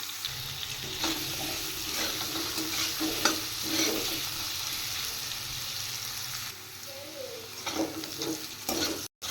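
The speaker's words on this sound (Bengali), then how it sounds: "এবার আমি কেটে রাখা মূলোগুলো একটু সাঁতলে নেব সামান্য একটু নুন দিয়ে আর হলুদ দিয়ে সাঁতলে নেবো" Chopped radish sautéing in oil with salt and turmeric, a steady close sizzle with scraping stirs throughout, easing briefly near the end, with no voices.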